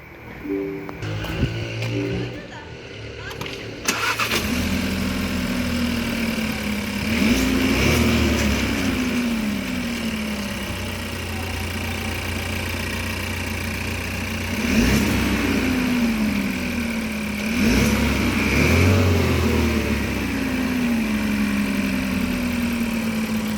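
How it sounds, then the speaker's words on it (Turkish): An MG HS fitted with a K&N 33-2153 performance air filter cranks and starts, then settles into a steady idle close by, with a couple of brief revs swelling the engine note. "Aracın çalışması şu anda bu şekilde."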